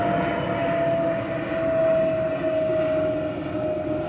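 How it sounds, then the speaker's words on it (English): A business jet passes overhead, its steady engine roar filling the whole stretch at a constant loud level with a faint whine running through it, and no voices are heard. "That's some kind of a business jet."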